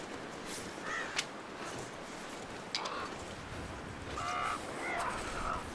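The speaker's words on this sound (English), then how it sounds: "why am I hearing these specific crows right here?" Crows caw intermittently in the survival video game The Long Dark, several short harsh calls scattered over a faint, constant wind-like background, moderately distant.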